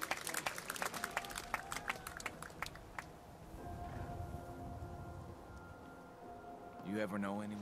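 A burst of scattered clapping in the video game Fallout 4 rings out for a few seconds, then fades into a low murmuring crowd, with a voice at the end.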